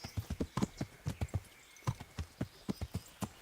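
Horse hooves clip-clopping in the video game Kingdom Come Deliverance, a quick, fairly regular run of hoofbeats with a brief pause midway, moderately loud and alone.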